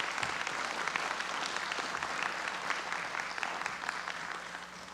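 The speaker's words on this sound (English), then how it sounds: "Let's give them another round of applause" A room at a county school board meeting breaks into sustained applause, an even wash of many hands clapping throughout at moderate distance, with no talk over it.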